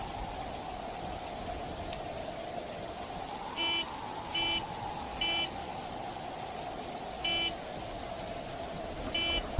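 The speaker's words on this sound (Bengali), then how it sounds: "মনে হলো গাড়ির হর্ন।" In a cartoon storm, a car horn gives five short, bright beeps at uneven gaps. Each beep is distinct over a constant rushing rain-like background and sounds fairly distant.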